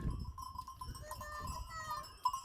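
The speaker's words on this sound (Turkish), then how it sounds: "Koyunlarımızın ve kuzularımızın sayıları tam." Sheep and lambs in a flock of about forty ewes and their one-to-two-month-old lambs bleat in overlapping calls, with a low background rumble and a brief louder call near the end.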